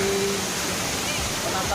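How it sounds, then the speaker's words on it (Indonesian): The Sikulikap waterfall roars as a steady, broad rush of falling water, with a voice talking over it. "Inilah dia air terjun Sikulikap ya"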